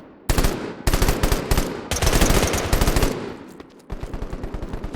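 Automatic gunfire in the online shooter game Rapid Impact: loud, rapid bursts of repeated shots, several volleys with brief gaps between them, close and dominant with no talk.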